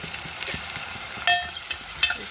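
Onions and green chillies frying in a pan for an Andhra-style bottle gourd dal, a steady close sizzle with a few scraping stirs and clinks, no talking.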